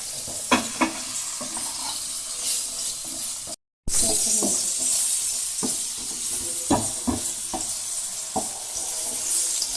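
Eggplant pieces seasoned with turmeric and salt sizzle steadily in a hot pan, with scattered clinks and scrapes as they are stirred; a brief dropout interrupts the constant hiss partway through. No one speaks.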